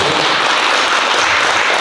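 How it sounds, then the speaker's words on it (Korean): A class of trainees in a cultural heritage guide course claps together to approve a resolution, a dense, loud, even burst of applause held for the whole short stretch. "그 부분에 대해서 좀 박수 동의를 한 건데"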